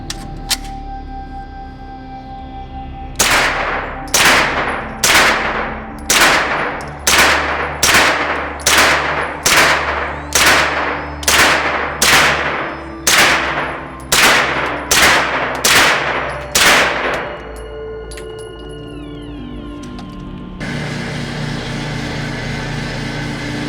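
PSA AK-V rifle fired through a Dead Air Wolfman suppressor: about fourteen evenly spaced, muted shots with metallic action clatter, followed by a steady background hum.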